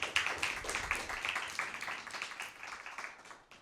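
Audience applause for the chief guest, a priest, at a Christmas Bible quiz program, a steady run of dense clapping that slowly thins and fades over a few seconds.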